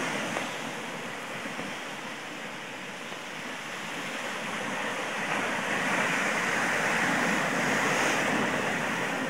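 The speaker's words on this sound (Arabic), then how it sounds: "أمواج البحر، من أجمل أمواج البحر والهدوء" Sea waves break on the beach at Salé Sidi Moussa, a steady, loud surf roar mixed with wind that swells slightly toward the end.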